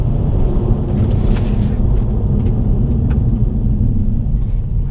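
A Volvo C30 D4 diesel hatchback brakes on the road, heard from inside as a steady, loud low rumble of road and wind noise with no distinct squeal or engine change.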